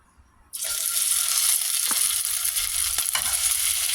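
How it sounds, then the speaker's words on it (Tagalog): Fish balls drop into hot oil in a pan and burst into a loud, steady sizzle that starts abruptly after a brief quiet moment, with a couple of faint clinks partway through. "Ipiprito natin tong fish ball"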